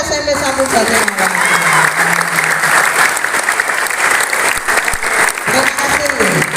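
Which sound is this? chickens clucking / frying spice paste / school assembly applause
school assembly applause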